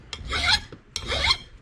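Coarse file rasping across an old USGI axe head, two long harsh strokes close up with a short pause between, no talking.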